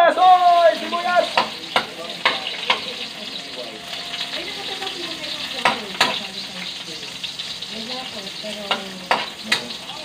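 Garlic and onion sauté in a hot pan for spicy fried rice, a steady sizzle broken by repeated clanks and scrapes of stirring, with a brief higher exclamation at the start.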